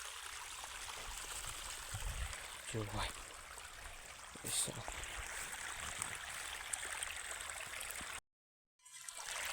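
In a dense forest, a stream flows with a steady broadband rush, near and continuous, and a voice speaks briefly over it. The water sound cuts out near the end.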